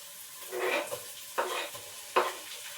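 Tomatoes go into a pan of sizzling, spicy chicken curry masala: three short bursts of hissing sizzle and stirring, close by, each fading quickly against a quiet background, with no talking.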